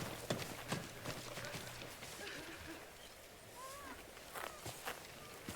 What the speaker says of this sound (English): Let's just stop the horse and get off